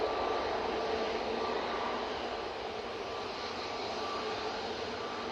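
An Airbus A321-200 airliner departs Manchester Airport, its steady broadband jet engine roar loud and continuous throughout, slowly easing slightly in level with no voices over it.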